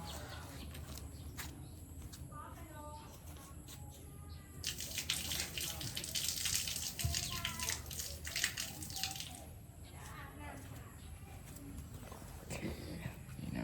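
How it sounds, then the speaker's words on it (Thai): Water is poured out of a container holding soaked chili seeds, a steady rushing, splashing flow that swells in the middle, with faint background noise throughout. "เดี๋ยวผมจะเทน้ำออกนะครับ"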